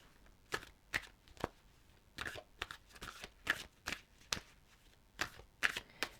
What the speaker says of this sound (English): So let's have a shuffle of the cards, Capricorn, for May.